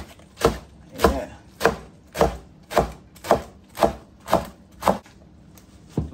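A knife chops collard greens on a cutting board, striking about ten sharp, evenly spaced chops in a steady rhythm close to the listener, with no talking.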